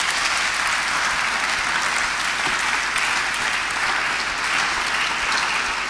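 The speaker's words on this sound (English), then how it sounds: "I'm not sure that round of applause was for," Audience applause fills a hall at an evening business and career fair event, a dense, steady clapping wash that holds evenly throughout with no talk over it.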